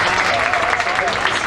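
A crowd at a campaign kickoff claps for a senator as he is introduced, a brief, steady burst of dense applause from many hands.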